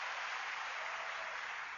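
Dense, steady hissing applause from a large crowd, like many hands clapping at once, with no voices standing out.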